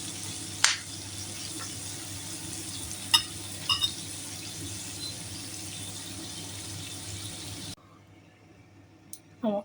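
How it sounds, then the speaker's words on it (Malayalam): Large anchovies frying in oil produce a soft, steady sizzle with a few sharp clicks and taps, ending in near silence with a couple of faint knocks. "വറുത്ത് കോരാം. പിന്നെ തിരിച്ചിടും. അത് വലിയ നെത്തോലിയാണ്."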